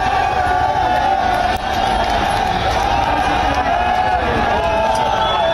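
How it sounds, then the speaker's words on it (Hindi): A violent mob crowds around the Red Fort flag pole trying to raise its own flag, a dense, continuous roar of many shouting voices with cheers rising and falling, loud and close throughout. "इस पोल पर इस हिंसक भीड़ ने अपना झंडा लगाने की कोशिश की"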